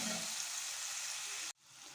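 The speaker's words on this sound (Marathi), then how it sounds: "आपण त्याच्यामध्ये कांदा टाकून कांदा चांगला परतवून घेणार आहोत." Onion frying in hot oil with ginger, garlic and chili for masala rice, a dense close sizzle that cuts off abruptly near the end, then resumes faintly.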